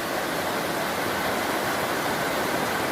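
A clear river flows beside a hiking trail, giving a steady, loud, broadband rushing wash that is constant throughout with no talk.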